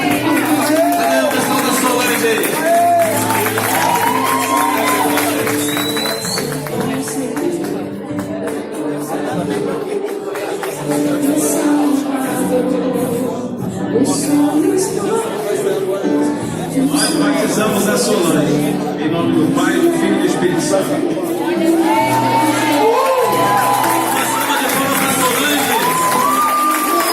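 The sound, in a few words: church congregation applauding and cheering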